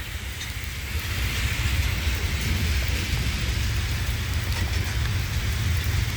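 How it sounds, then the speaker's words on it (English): Heavy rain pours down in Montreal's Pointe St Charles district beside a CN rail line, a loud, dense, steady hiss with low rumble that swells after the first second and continues unbroken. "But it's still raining too much, and it's just big drops coming through this thing here."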